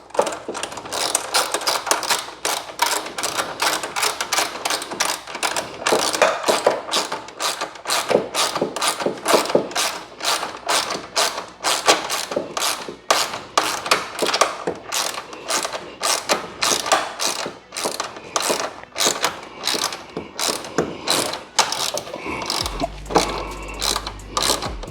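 A ratchet tightens screws on a K&N cold air intake going into a BMW E46 M3, giving steady rapid clicking in repeated bursts, close and loud, with no talk.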